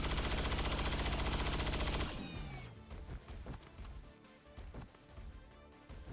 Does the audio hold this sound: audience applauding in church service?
no